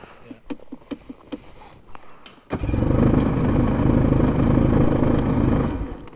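A VR1 snowmobile on a winter trail: a few sharp clicks and taps as the throttle is pumped, then the engine catches and runs with a loud, steady, close roar for the rest of the moment.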